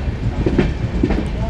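The Mangla Lakshadweep Express runs on the Konkan Railway between Ratnagiri and Madgaon, its loud, steady rumble and rattling wheels heard from close by on board with no break in the noise.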